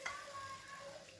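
Sugar syrup is poured little by little over a hot tray of mango basbousa fresh from the oven, giving a steady soft sizzle that holds evenly through the short moment with no talk.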